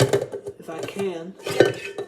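A mixing bowl clunking into a stand mixer while making cookies, a couple of close hard knocks and clinks of metal and glass against the machine.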